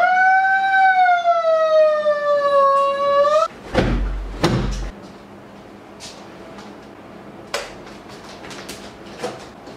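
Ambulance siren wailing in a loud, steady rising and falling tone for a few seconds, then cutting off abruptly, followed by door-like clunks and scattered faint knocks.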